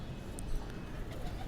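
An amber sire pigeon cooing on a rooftop loft, soft low repeated coos close by, with faint background noise and a light high chirp early on.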